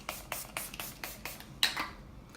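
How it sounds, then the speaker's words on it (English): Milani Make It Last setting spray misted onto a face in a quick run of about eight short, close pumps, each a crisp hiss, the last slightly louder, followed by quiet. "I used my Milani Make It Last setting spray."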